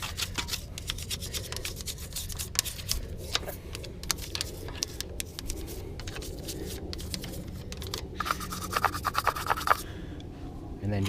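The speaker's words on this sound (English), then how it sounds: "So spray it in there real good and agitate. I'm using a toothbrush." A toothbrush scrubs the inside of a dirty car wheel rim during a wash, giving rapid scratchy bristle strokes in an irregular rhythm that are close and fairly loud throughout.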